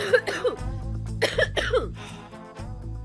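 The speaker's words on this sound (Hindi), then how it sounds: "वो जरा खांसी हो गई मुझे" A woman in a dramatic TV series coughs several times in quick bursts, close and loud, with a throat-clearing quality and no speech over it.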